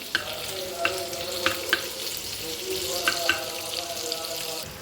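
Finely chopped ginger and green chillies frying in a pan for temple-style curd rice, a steady sizzle punctuated by several sharp clinks of a spoon stirring against the pan.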